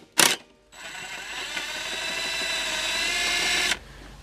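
An impact wrench working on a lawn mower blade: a short sharp burst, then a sustained close, buzzing mechanical whir for about three seconds before it cuts off.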